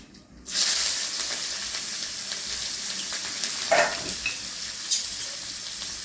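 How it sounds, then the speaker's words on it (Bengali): Black cumin seeds and chopped onion hitting hot oil in a pan, an abrupt loud sizzle that starts after a short quiet moment and continues steadily, with a few clinks of stirring, no talk. "তেলে আমি দিয়ে দেব কালো জিরে আর পেঁয়াজ কুচি"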